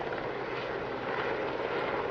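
A Sea King helicopter flies a display at the Midlands Air Festival, its rotor and engine giving a steady, loud broadband roar throughout.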